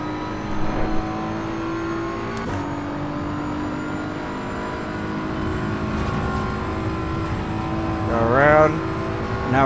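BMW M4 engine revving at full throttle during a night lap of the Nürburgring Touristenfahrten in Assetto Corsa Evo, a steady loud drone with a rising pitch sweep near the end, someone talking over it.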